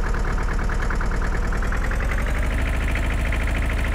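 An Ursus C45 tractor engine idles steadily in a farming video game, a loud, close, even low-pitched chug that holds throughout with no voices.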